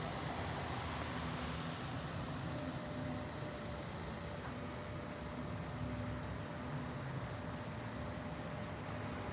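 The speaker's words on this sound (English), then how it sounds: "There's a truck driving by right now." A truck passes along a city street, a low continuous engine rumble and road noise that stays steady and moderately distant for several seconds.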